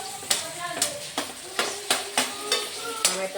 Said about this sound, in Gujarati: લસણમાં નાખ્યું આદુ, હવે નાખીશું આપણે ટામેટાને